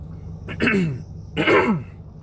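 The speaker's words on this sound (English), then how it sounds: "Just feel like I can't clear my throat." A man clears his throat twice in close succession, two rough, gravelly rasps close to the microphone against a quiet room background.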